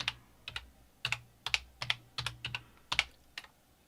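Someone types on a computer keyboard at a DOS-era 486 PC, leaving about a dozen crisp, distinct keystrokes in an uneven rhythm with brief gaps, close and clear with no talking.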